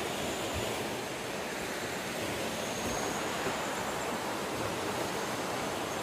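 Rain-swollen river rushing fast with a strong current beneath a bridge near the Myanmar border, a steady, loud, unbroken roar of churning water with no voices.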